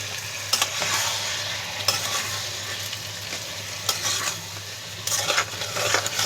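A spice paste of green chilli, ginger and garlic fries in mustard oil after a sprinkle of water, crackling and sizzling steadily while a spoon stirs and scrapes the pan in several distinct bursts.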